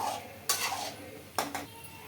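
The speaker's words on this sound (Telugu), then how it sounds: "మనము బాగా బ్రౌన్ కలర్ వచ్చే వరకు అయితే ఫ్రై చేసుకోవాలండి" Balls of Balamrutham and wheat-flour gulab jamun dough frying in oil in a pan: a soft background sizzle broken by two sharp utensil scrapes against the pan.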